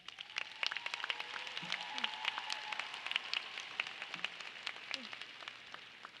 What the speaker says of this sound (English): Let's applaud their success.